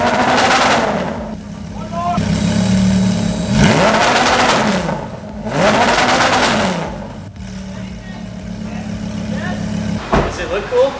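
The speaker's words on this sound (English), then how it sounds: "I'm gonna go inside, rev it up to red line." Audi R8 with a flame kit revved to red line, three loud swelling roars with pauses between them, followed by sharp popping bangs near the end.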